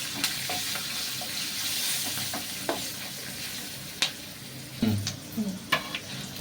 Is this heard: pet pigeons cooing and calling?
no